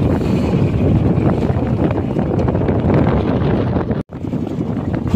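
Strong, steady wind roars and buffets the microphone on a small fishing boat out at sea, loud and constant with a brief dropout near the end.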